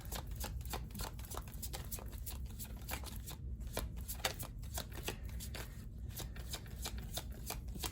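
Tarot cards being shuffled and drawn, a close, continuous riffling flutter of card edges with soft slaps, heard alone at a quiet level.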